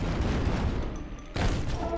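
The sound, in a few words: flame cannon firing in a floating city builder video game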